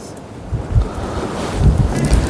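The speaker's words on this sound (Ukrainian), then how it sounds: "Якщо такий вітерець протримається, то може до вечора буде шторм вже хороший." Gusty wind blasts against the microphone in uneven surges on the seafront in Odesa, with the low rumble of sea in the background.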